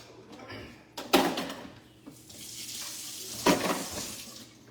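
Jarred pasta sauce with garlic simmers in a pan for manicotti, giving a soft, steady sizzle broken by two louder scraping stirs with a utensil against the pan.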